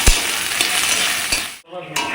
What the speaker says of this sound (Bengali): এগুলোকে ভালো করে ভেজে নেব।